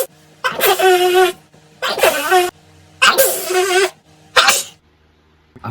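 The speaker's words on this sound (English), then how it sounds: "I just had a sneeze attack" A person sneezes four times in quick succession, each loud, close sneeze separated by a short pause, the last one shorter than the rest.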